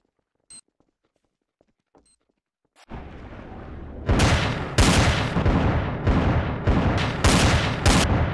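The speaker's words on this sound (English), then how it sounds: "I hear a bomb." Bombs and gunfire burst in the online game Trouble in Terrorist Town: after a few faint ticks, a loud sustained blast erupts, followed by repeated heavy explosive bursts rolling on to the end, close and intense.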